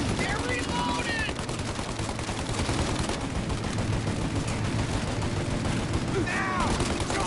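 Continuous heavy gunfire in a shootout in the video game Mafia Definitive Edition, dense rattling shots filling the whole stretch with voices shouting underneath.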